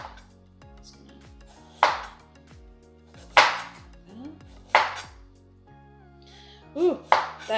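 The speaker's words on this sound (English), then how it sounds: "you would cut about a 2-inch piece of ginger. And we're just gonna peel that" A knife cuts and peels a roughly two-inch piece of ginger on a board, giving several sharp, separate chopping knocks with quiet gaps between them.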